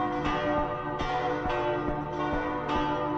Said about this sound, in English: Ding dong, ding dong, we're going. 108 chimes.